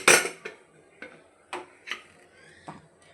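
A cooled pressure cooker lid is opened in a home kitchen, giving a quiet series of about six sharp metallic clinks and taps spaced irregularly, with no talking.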